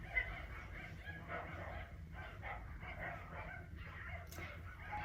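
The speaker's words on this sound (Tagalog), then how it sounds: "ang ingay na mga aso" Dogs bark and yip repeatedly at a distance during a home work-from-home session, the noisy barking running steadily through the background.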